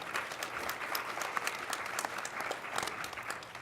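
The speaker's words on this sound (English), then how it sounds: "I think that deserves a round of applause right there" Steady applause from an audience at a community organizing event, a dense, even wash of clapping that holds at a moderate level for the whole stretch, with no speech over it.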